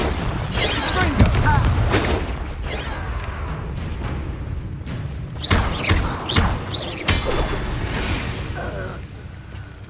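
Confringo explosive spells cast in the video game Hogwarts Legacy burst as several loud, close thuds and booms at irregular intervals, some with a shattering edge, over ongoing game noise and voices.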